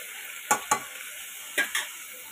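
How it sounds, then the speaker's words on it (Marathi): Onion, chilli and tomato get stirred together in hot oil, a constant sizzle marked by two pairs of quick scraping clanks from the spoon against the pan. "आता मी सर्व हलवते।"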